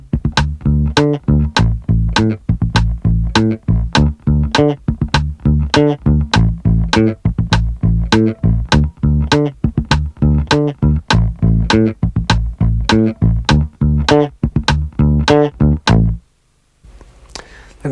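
An electric bass plays a fingerstyle funk line with ghost notes, a steady stream of punchy, percussive plucks in tight rhythm, loud and close, ending abruptly near sixteen seconds.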